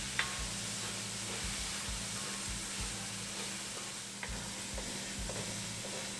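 Onions browning and tomatoes softening in a pan for Goan shrimp give off a steady, close sizzle with occasional stirring scrapes, heard alone with no voices.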